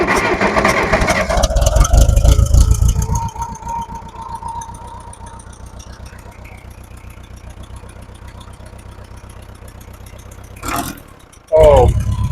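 A Case 430 skid steer engine running steadily after a fuel repair, a low rumbling idle holding for several seconds with some clanking, then a brief rise in loudness near the end.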